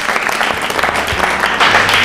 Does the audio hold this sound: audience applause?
yes